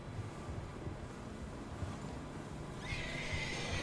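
A horse neighs in the Red Dead Redemption 2 video game, its whinny rising over steady ambient game noise with faint hoofbeats, growing brighter near the end.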